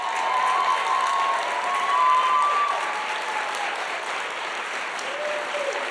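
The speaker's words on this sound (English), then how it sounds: "let's give them a round of applause" An audience at an education talks event applauds presenters returning to the stage, sustained loud clapping with a faint cheer or two woven through.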